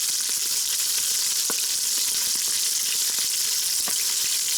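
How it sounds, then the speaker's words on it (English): Pork chops sear in a hot pan with a loud, steady sizzle, broken by scattered pops and crackles of spitting fat, and no voices. "what I'm doing is I'm letting them sear on both sides."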